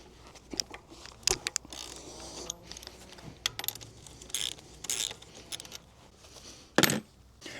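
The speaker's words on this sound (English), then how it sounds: "Let me go ahead and loosen the bolt on this side and then we'll take it off." Tools working on the wheel bolt of an e-bike, sharp metallic clicks, taps and clinks arriving in irregular bursts close by, with a quieter, scraping background between them.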